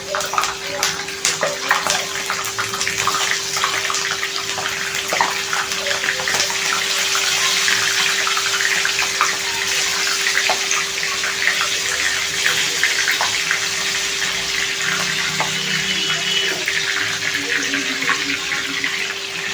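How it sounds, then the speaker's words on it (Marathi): Green chillies sizzling in hot oil for street-style Pune vada pav, a steady dense hiss and crackle of frying that holds without break throughout, close and fairly loud. "आता आपण ही मिरची फ्राय करण्यासाठी तेलामध्ये टाकत आहोत."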